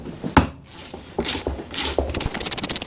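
Metal tools clank and scrape on a lawn mower's Eaton 778 hydrostatic transmission as a puller works its pulley loose. A few sharp knocks and rasps lead into a quick, even run of ratcheting clicks close by.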